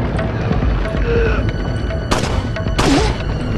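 Gunfire in Resident Evil 4 Separate Ways: a few sharp, loud broadband shots, with a pair of cracks near the end, over a busy game soundscape with voices.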